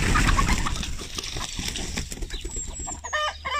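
Chickens cluck and squawk nearby amid rustling and shuffling noises, with scattered bird calls over a busy poultry-farm background.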